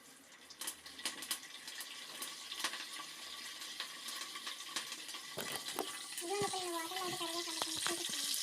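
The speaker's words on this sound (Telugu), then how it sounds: "ఇదిగోండి కరివేపాకు వాటర్లో కడుగుతున్నాను" Curry leaves are swished and rinsed in a vessel of water in a home kitchen, soft splashes and trickling with sharp clinks toward the end, faint and close.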